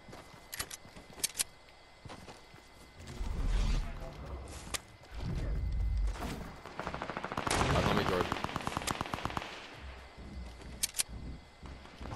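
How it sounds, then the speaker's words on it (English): Fortnite gunfire during a duo match: clusters of sharp single shots and rapid automatic bursts, some loud and close, some quieter, mixed with game effects and voices talking intermittently. "Are you getting shot at, Jordan?"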